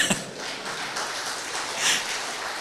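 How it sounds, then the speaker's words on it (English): Audience applause at a lecture hall, a soft, steady wash of many hands clapping at a distance, fairly quiet and without speech over it. "Yes, you are entitled for that applause."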